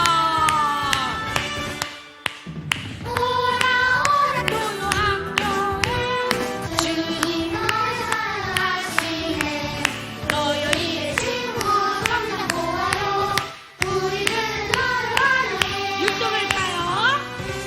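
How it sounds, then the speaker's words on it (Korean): Children clap along to an upbeat worship song at a Saturday church-school gathering, steady hand claps running under loud music and singing throughout, with a brief pause partway. "자, 박수 치면서 할까요?"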